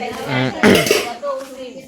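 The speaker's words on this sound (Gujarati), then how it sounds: "આ બાજુ વાસણ ધોવાય." Dishes and pots clatter and clink close by, with running water and scraping between brief bursts of clanking, over a background of voices.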